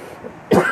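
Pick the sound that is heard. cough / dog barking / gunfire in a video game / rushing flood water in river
cough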